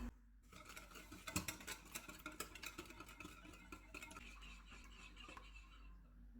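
Brown sugar being stirred into beaten eggs in a bowl for French toast, a steady patter of scraping and clinking from the utensil against the dish, close and fairly quiet with no talk.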